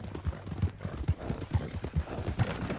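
Steady clip-clop of a horse's hooves in a Western video game, a regular walking rhythm of close, distinct hoof strikes running throughout with faint background ambience.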